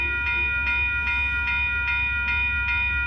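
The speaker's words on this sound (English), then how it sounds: "Once again, this is Amtrak 11 going to Los Angeles." Amtrak Coast Starlight train 11, led by a P42DC locomotive with an ALC42 trailing, passing the 98th Avenue railroad crossing in Oakland, California, with a loud continuous roar and crossing bells ringing in a steady, evenly spaced rhythm.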